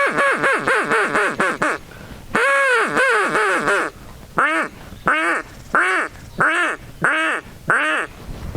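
Duck call blown with poor air delivery, producing a string of harsh, raspy quacks: a fast run of short notes, then a sustained honk, then evenly spaced separate quacks, loud and close with no talking.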